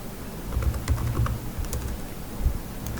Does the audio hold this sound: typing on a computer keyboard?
yes